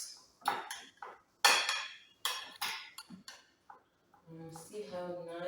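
Dinner plates are handled in a home kitchen, with sharp ceramic clinks and clatters in short bursts, then a voice speaking near the end.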